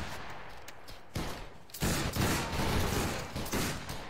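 Musket volleys from a line of soldiers in the game Battle Grounds III, a ragged fusillade of overlapping shots that starts scattered, then swells into a dense, loud rolling crackle of gunfire.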